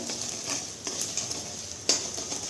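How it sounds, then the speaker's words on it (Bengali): Beaten eggs frying in oil in a pan while being scrambled and stirred, a soft steady sizzle broken by several sharp scrapes and clinks of a utensil against the pan, close and with no voices. "এবার ডিমটাকে আমি ঝুড়ো ঝুড়ো করে ভেজে নেব।"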